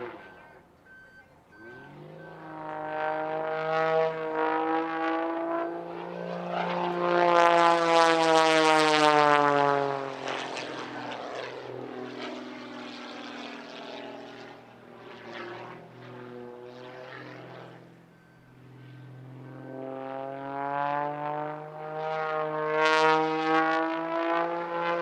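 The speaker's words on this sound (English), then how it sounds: "Today he's flying the same aircraft type he used for the air race, the Zivco Edge 540" A Zivco Edge 540 aerobatic propeller plane, first flown in 1996 and flown here by a Red Bull Air Race champion, makes a loud, sustained engine drone whose pitch rises and falls as it passes and maneuvers at an airshow.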